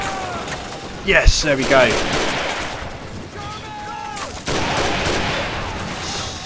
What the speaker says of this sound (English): There's a nice bazooka strike there on the Stug